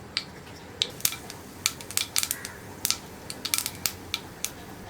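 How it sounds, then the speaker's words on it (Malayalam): Mustard seeds crackle in hot coconut oil as a Kerala bitter gourd curry gets started, sharp irregular pops and snaps scattered across the clip, some coming in quick clusters, close up over a faint steady hiss. "കടുക് പൊട്ടിക്കഴിഞ്ഞു."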